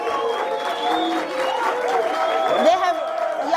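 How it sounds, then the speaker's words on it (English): Audience applause at a broadcast distribution masterclass session: a steady wash of clapping runs throughout, with a talking voice layered over it. "can we give GFC a round of applause?"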